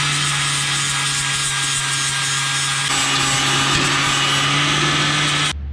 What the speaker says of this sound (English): grind this hole out so the nut sits in there flush with the frame